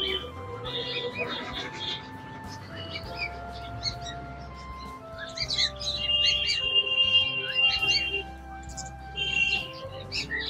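At the Asansol bird market, caged pigeons and finches fill the air with a busy mix of high chirps, tweets and soft coos, steady and close throughout.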